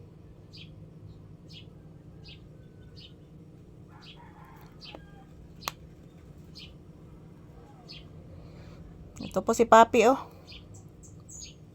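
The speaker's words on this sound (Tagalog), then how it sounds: "Nakikinig po sa mga huni ng ibon guys" Outdoors, a bird gives short high chirps at a steady, even rhythm, faint to moderate in volume. Near the end comes a louder burst of clucking, rooster-like calls, and a voice speaks briefly.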